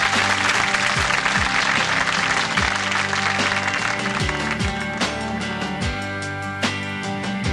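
A studio audience on a UTV Friday show applauds steadily throughout, loud and sustained, while music with a bass line plays over the clapping.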